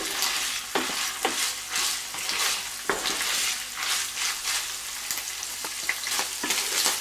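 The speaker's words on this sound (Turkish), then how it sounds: "İki dakikadır soğanla kavruldu." Onions and other ingredients fry in a pan on high heat for a Turkish iftar menu. The close, loud sizzle runs continuously, broken by repeated stirring scrapes and clicks.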